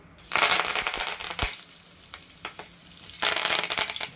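One cinnamon stick, three cardamom pods and curry leaves hitting hot oil for Andhra-style kadai chicken fry, bursting into a loud, crackling sizzle that swells, eases slightly, then surges again, close and without any voices.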